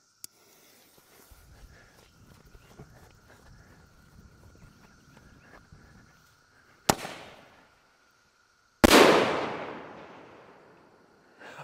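Salute fireworks going off outdoors in the morning: two sharp, loud bangs several seconds apart, each with a ringing decay, after a quiet stretch of faint background noise.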